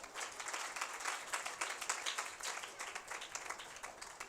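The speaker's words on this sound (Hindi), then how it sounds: "इस सारी बात पर ज़ोरदार तालियां" At a hymn releasing ceremony in Rattanabad, a gathered audience claps in a brief, even burst of applause, moderately distant and fairly soft, with no talk over it.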